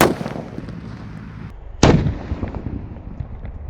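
Jumbo firecrackers (mercon) set off outdoors for Ramadan celebrations: two loud sharp bangs about two seconds apart, each followed by a rumbling, crackling decay.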